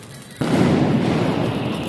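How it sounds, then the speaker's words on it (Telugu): A Diwali firecracker, lit, suddenly erupts into a loud, continuous crackling hiss that keeps spraying steadily after the initial burst. "ఇక్కడ నేను క్రాకర్స్ వెలిగిస్తున్నాను"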